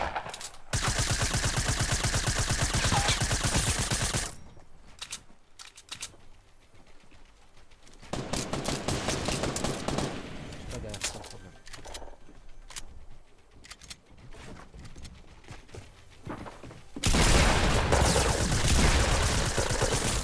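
Rapid automatic gunfire in the Fortnite Battle Royale video game, loud bursts in the first seconds and again at the end, with quieter scattered shots and game sounds between them.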